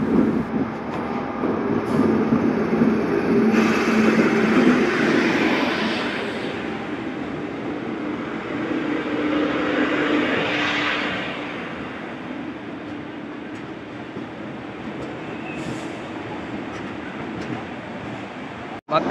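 A train rumbles steadily nearby as it arrives at a station platform, a broad continuous roar of wheels on track that slowly fades somewhat toward the end.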